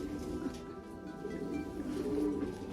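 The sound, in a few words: pigeons cooing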